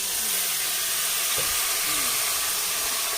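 Water poured into a hot pan of browned onions hisses and steams in a loud, continuous sizzle, with a faint voice in the background.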